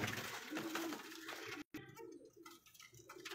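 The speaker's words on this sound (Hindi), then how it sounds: "ऐ जे माशाल्लाह कबूतर" Pigeons coo softly and repeatedly in a breeder loft in Sialkot, the low throaty calls overlapping at close range with a brief dropout midway.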